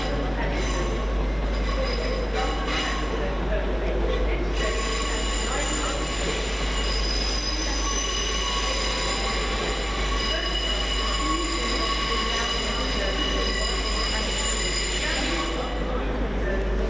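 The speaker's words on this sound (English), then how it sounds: "387 to 306 departs, with the 1312 Great Western Railway local service to Newbury" A Great Western Railway class 387 electric train departs Reading station on a local service to Newbury, a continuous loud rolling roar with sustained high wheel squeal and steady low hum, while a voice talks over it.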